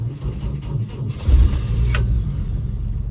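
A 1946 Chevrolet Fleetmaster with a sticky solenoid, cranking and trying to start, producing a steady low engine rumble close by with a brief metallic click partway through.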